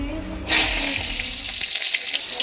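Onion dropped into hot oil with panch phoron, a sudden loud hiss that then settles into steady crackling sizzle with small pops, close and alone.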